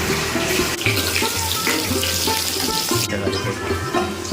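A steady crackling sizzle of garlic frying in hot oil fills the pan, with soft scraping stirs over it.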